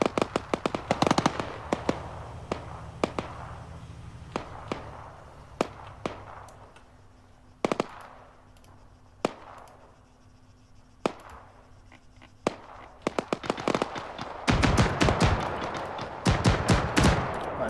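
Battle sounds in Arma 3 with tank cannon fire: sharp, loud blasts at irregular intervals over a low rumble, ending in a dense burst of rapid shots.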